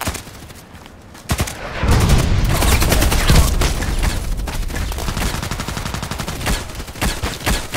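An enemy in the shooter Contract Wars sprays gunfire through the walls of a house. Dense, loud automatic bursts roll on for several seconds without a break, and no one speaks.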